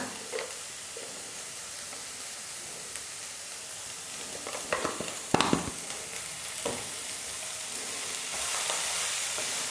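Cabbage and other vegetables stir-frying in a pan for spring roll filling, a continuous close sizzle with scraping stirs and small bursts midway, getting a little louder toward the end, no speech.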